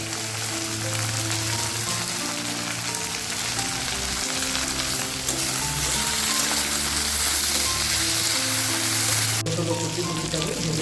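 Long-cut potato strips fry with onions in a pan for a small-fish chorchori. A dense, continuous close sizzle hisses steadily throughout, briefly shifting near the end, with no talking.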